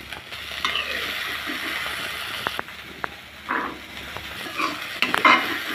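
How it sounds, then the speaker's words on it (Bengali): Green peas frying in a wok give a steady sizzle, broken by a series of sharp scraping and clinking strokes as a spatula stirs them, close up, with no voices. "কড়াইশুঁটিটা কিন্তু ভাজা হয়ে গেছে।"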